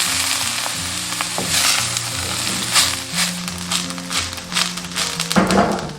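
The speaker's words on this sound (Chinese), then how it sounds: "把这个笋干末一定要用油炒一下，这样子它才会香" Dried bamboo shoot bits stir-fried in cooking oil with a little scallion white in a wok, sizzling loudly and steadily while a spatula scrapes and taps in irregular strokes.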